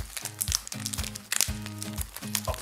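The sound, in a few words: unwrapping plastic packaging of new roller skate wheels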